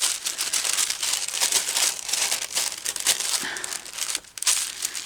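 Craft material torn and crinkled by hand, close and crisp, in a run of rustling rips and crumpling sounds with a short pause near the end; no talking.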